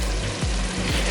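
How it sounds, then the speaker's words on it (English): Flour being stirred into a pot of sizzling beef stroganoff, a loud continuous sizzle with a few low scraping sweeps of the spoon through the thick mixture. "3 tablespoons of flour. Stir that in."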